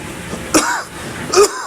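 Two short, rough coughs or throat clears, close up, spaced about a second apart, with no talking.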